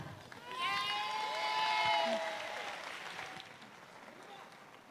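An audience at a talk event claps, a fairly soft, continuous patter swelling in the middle and easing toward the end, with a voice sounding over it early on.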